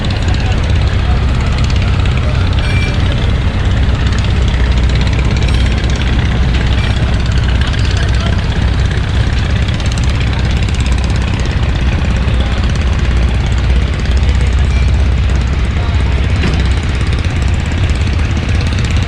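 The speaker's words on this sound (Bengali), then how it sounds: "মিতালি 7 লঞ্চে যাচ্ছি চাঁদপুরে। ঘাট মাত্র ত্যাগ করলো লঞ্চটি।" The Mitali 7, a passenger river launch bound for Chandpur, pulls away from the ghat with a loud, steady engine drone that fills the whole stretch alongside broad wash and rumble.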